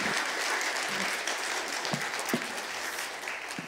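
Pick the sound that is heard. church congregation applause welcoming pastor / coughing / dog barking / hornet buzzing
church congregation applause welcoming pastor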